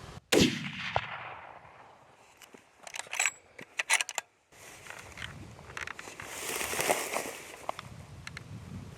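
While hunting whitetail deer in Kansas, a single sharp gunshot cracks near the start and decays quickly, followed by scattered clicks, rustling and handling noises outdoors.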